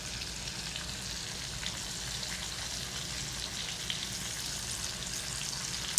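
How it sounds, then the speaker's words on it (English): Veal scallopini bubbling and sizzling in a pan, a steady dense hiss of frying fat and juices, close and continuous with no talking. "I'm good with all of this bubbling."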